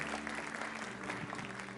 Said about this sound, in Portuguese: Aplaude esses varões aí,